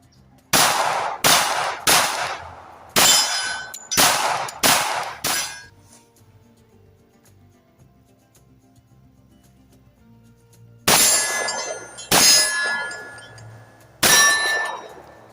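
A 1911 .45 ACP pistol, the EAA Girsan 1911 Influencer with a Zulisy Z1-R red dot, fired outdoors at steel targets: a string of six sharp shots with ringing clangs, a pause, then three more spaced shots.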